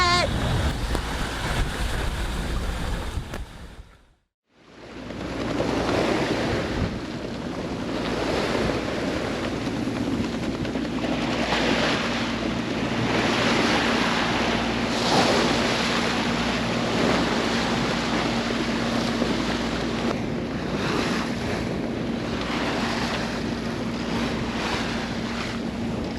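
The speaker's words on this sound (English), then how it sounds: "Looks like we're about to be hit with another squall, and we're gonna get wet." A sailboat at sea at night is caught in a squall, with steady roaring wind buffeting the microphone and constant rushing waves. A brief dip near the start is followed by a sustained, loud wash of wind and water.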